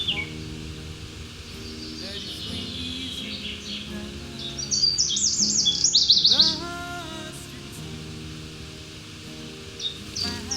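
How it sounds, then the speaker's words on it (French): Small birds chirp in a rapid, high, twittering burst while coming to drink from water held in a teasel plant outdoors, fairly faint and brief over background hum and rustling. "Les oiseaux viennent boire."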